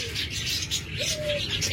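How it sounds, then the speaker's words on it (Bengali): Captive doves (ghughu) kept in pairs at a bird seller's, cooing in soft repeated low calls with some chirping from other birds around, fairly close and steady with no talk. "অসংখ্য ঘুঘু পাখি রয়েছে।"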